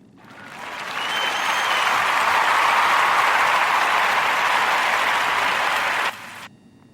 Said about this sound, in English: So clap it up for Rachel Chase.